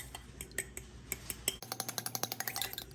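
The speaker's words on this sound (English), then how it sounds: "you want to take a fork or a whisk and just get this all whisked up" A fork whisking cream cheese filling for jalapeño poppers in a bowl: quiet irregular clinks at first, then a quick steady run of rhythmic scraping taps against the dish, close and fairly soft.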